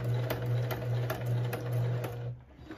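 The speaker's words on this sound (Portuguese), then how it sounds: "Aí a gente abaixa o calcador e sobe de novo a costura." An industrial sewing machine stitching a frame around a bag label runs steadily at close range, a continuous humming whir with a regular ticking needle rhythm, stopping near the end.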